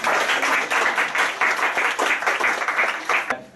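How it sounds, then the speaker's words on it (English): An audience at a Gurkha memorial workshop claps steadily in a sustained round of applause, dense and even throughout before cutting off near the end. "Let's give them another round of applause"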